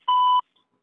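An automated IVR phone call plays a single clean electronic beep lasting about a third of a second, prompting keypad entry, followed by silence.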